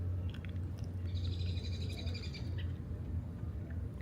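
Faint birdsong trills and chirps in the distance over a steady low hum, with no talking, heard during a scooter ride from Woodbine Park up to Danforth in Toronto.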